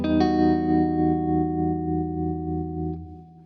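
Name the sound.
electric guitar with tremolo and reverb effects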